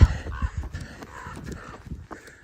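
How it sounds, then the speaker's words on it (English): Crows cawing during a mountain trail run, several harsh caws in quick succession at moderate distance, fairly faint, over footsteps and light ambient noise. "What were those crows doing?"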